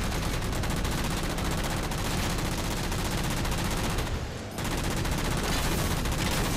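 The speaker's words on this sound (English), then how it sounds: "They just are a lot more vulnerable against the Mantis' Vulcan Cannon." The Mantis Vulcan Cannon in Halo 4 fires in a dense, unbroken roar of rapid gunfire, loud and continuous, briefly dipping once before the stream resumes.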